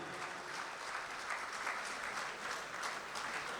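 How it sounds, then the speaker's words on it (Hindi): A crowd at a mushaira, an Urdu poetry recital in Doha, Qatar, claps in sustained, dense applause that holds at an even level throughout with no talking. "तालियों के दरमियान एक मर्तबा और माइक पर जनाब जवाहर कानपुरी।"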